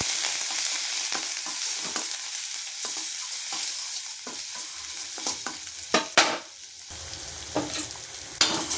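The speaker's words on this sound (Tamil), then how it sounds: "இஞ்சி விழுது போட்டுக்கிட்டோம், பூண்டு விழுது போட்டுக்கிட்டோம். போட்டு கிண்டி எடுத்துக்கிறோம்." Ginger and garlic paste sizzles loudly in a hot pan for a barnyard millet biryani. A spoon stirs it with scraping clanks that grow sharper toward the end, and no one speaks.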